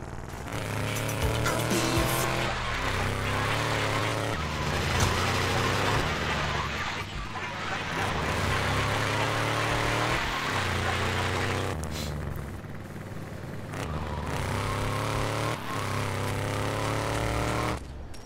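Car driving through the streets in GTA Vice City Stories, a continuous engine drone with shifting pitch and road noise, mixed with game sounds and faint background audio throughout.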